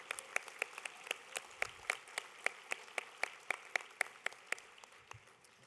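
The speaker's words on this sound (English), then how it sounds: "We need to give all of them a round of applause." Rhythmic applause at a senior awards ceremony honoring a committee, steady evenly spaced claps standing out over a soft room hum, moderately distant and fairly quiet.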